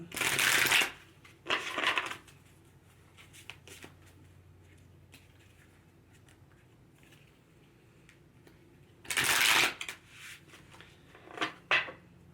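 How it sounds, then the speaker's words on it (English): A tarot card deck is shuffled in quick riffling bursts, a pair near the start and another pair near the end, close and crisp with quiet gaps between. "let's shuffle this deck for Libra"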